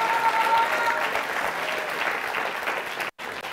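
Applause from the audience at a Pan African Congress commemoration conference, with a sustained even patter of many hands at moderate level that breaks briefly near the end.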